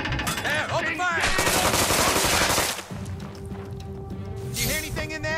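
Rapid bursts of gunfire from South Park: The Stick of Truth, a loud continuous volley dense for several seconds, then easing into lighter scattered shots over game music and sound effects.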